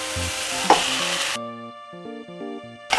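Boiled, peeled potatoes tipped into a pan of frying onions and carrots, a steady sizzle with stirring and a brief thud as they land, alone without talk, with a tonal musical layer over part of it.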